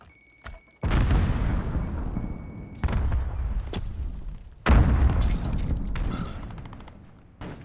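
Three heavy grenade blasts in Call of Duty: Modern Warfare, multiplayer Cyber Attack mode, each a sharp loud boom trailing into a long rumbling decay, spaced a couple of seconds apart with faint gunfire between.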